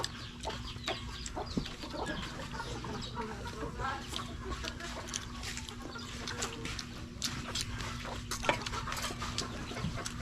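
Chickens cluck steadily and faintly in a rural outdoor setting, with scattered short clucks and calls over a low background hum and rustling.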